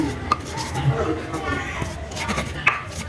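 Tahu campur ingredients worked with salt in a bowl make soft, steady scraping and rubbing sounds, with a few sharper knocks, and people talk over the mixing.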